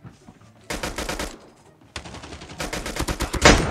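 A pistol fires in Call of Duty Mobile as two quick bursts of rapid sharp shots, loud and close, separated by a short pause.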